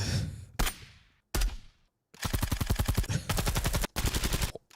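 Rifle shots from an AR-15: two single loud cracks with ringing tails, then two rapid bursts of automatic fire, close and loud with no talk.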